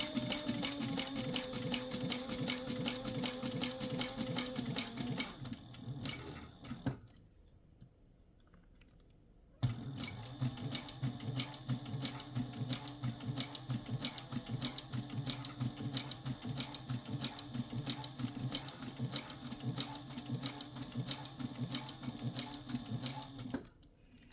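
A sewing machine stitches a fabric heart pouch, running in steady loud bursts with a brief pause and a backstitch before resuming its fast, even rhythm.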